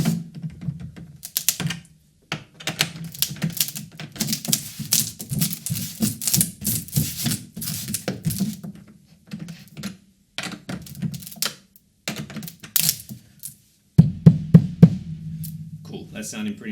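Repeated light taps on a freshly fitted drum head on a new kit while a hand presses firmly on the centre during tuning. The hits are close, uneven and clustered, with short pauses and a denser burst near the end.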